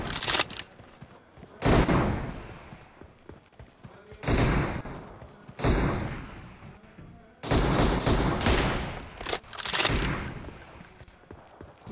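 Bursts of video game gunfire erupt in several loud volleys, rapid fusillades separated by quieter gaps, with a voice calling out between shots in a team deathmatch.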